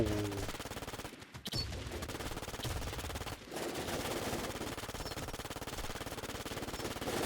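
Rapid automatic gunfire from the player's weapon in a shooting video game, a fast continuous rattle of shots that drops out twice in brief gaps before resuming, fairly faint in level, with no talk.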